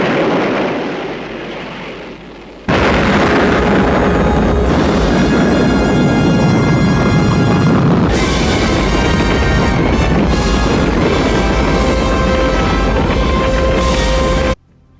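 A huge movie explosion from a 1960s science-fiction film, linked to a dropped missile and atomic testing, hits abruptly and roars on as a loud, sustained rumble with a second surge midway, overlaid with a dramatic score.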